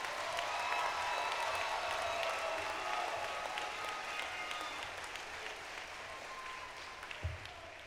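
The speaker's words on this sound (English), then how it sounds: "Please give them another round of applause." A commencement crowd applauds the graduating class of 2017, a broad, sustained wash of clapping that slowly fades, with murmuring voices faint beneath.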